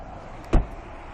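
A single dull, close thud as the boot or a door is shut on a 2013 Ford Focus, with quiet surroundings before and after.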